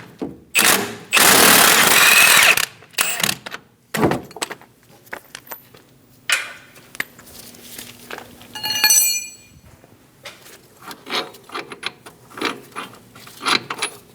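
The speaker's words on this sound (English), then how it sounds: "we're going to hold the head of the bolt while we remove the nut" A 22mm wrench and ratchet loosen the strut nut and bolt on a 2008-2015 Scion xB front strut assembly. Loud bursts of ratcheting and metallic clinks come close and alone, broken by short pauses.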